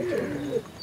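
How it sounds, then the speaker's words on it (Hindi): A male short-beaked Madrasi pigeon, about three to four years old, gives a single low, soft coo lasting under a second, close by and alone with no talk. "छोटे चोंच वाला कबूतर"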